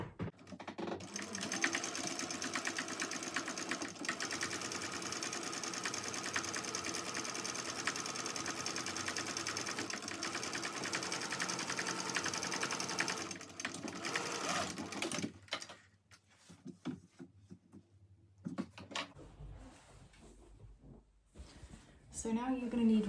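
A sewing machine top stitches a panel for a Cornish backpack at a longer stitch length, whirring steadily and close for about fifteen seconds before slowing into short stop-start bursts, with a voice speaking at points.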